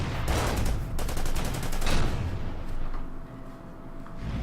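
In the strategy game Order of Battle, a Marder tank destroyer fires on a KV tank, producing a rapid rattling burst of gunfire and explosions that fades out with a trailing rumble, with no talking.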